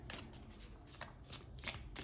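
A deck of oracle cards is shuffled by hand in a steady run of soft riffling, slapping bursts, close and clear, with no talking.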